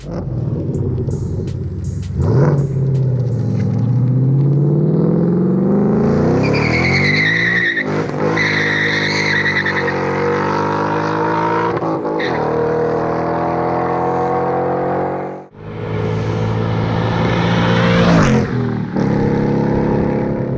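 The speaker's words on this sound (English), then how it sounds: "So just casual drive-by." A car fitted with a C&L H-pipe exhaust passes close, its loud engine rising and falling through revs with a rumbling, raspy exhaust note that swells, drops, then builds again, with some tire noise.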